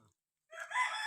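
After a brief silence, a chicken gives a short, fairly faint call that cuts off abruptly.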